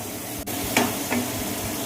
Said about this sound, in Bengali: আলুটা দিয়ে একটু আমি ভেজে দেবো